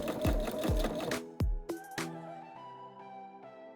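A Pfaff Expression 720 electronic sewing machine sewing a double ribbon stitch gives a few quick, close mechanical stitching bursts, then sharp clicks and a fading ringing hum as it stops.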